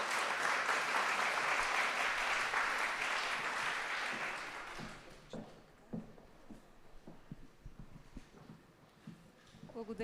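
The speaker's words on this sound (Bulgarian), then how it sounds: "Големи аплодисменти." A conference audience at a spin-off and Horizon Europe info day gives loud, dense applause for about five seconds as a speaker takes the stage. The clapping then fades into scattered claps, room noise and a voice beginning to talk.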